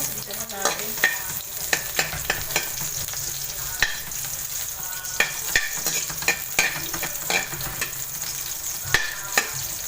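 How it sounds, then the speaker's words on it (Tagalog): Eggplant sautéing in a hot pan, a continuous sizzle and fry broken by repeated sharp scrapes and clacks of a utensil stirring against the pan, close and steady with no talking. "Na guys, gisa na natin yung talong, yung gisa na natin."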